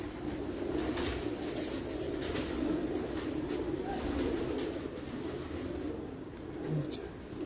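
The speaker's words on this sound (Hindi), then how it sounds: "ये एक कबूतर और देखें, ये शानदार कबूतर।" Pigeons coo steadily and continuously close by, a low repeated throaty murmur filling all seven and a half seconds, with a few faint brief sounds scattered over it.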